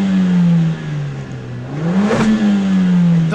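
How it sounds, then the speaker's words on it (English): A Mercedes-AMG CLA45 S in Sport Plus mode idles loudly, then its engine is blipped into a sharp rev that rises and falls back, with a crackle at the peak, heard close by. "they want us to rev the car. So, I'm going to give him a little taster."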